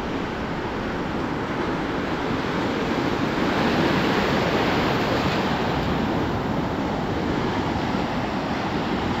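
Ocean waves washing up on the long drive-in beach at Muzhappilangad, a continuous dense roar of surf mixed with wind buffeting the microphone, steady and full throughout with no voices.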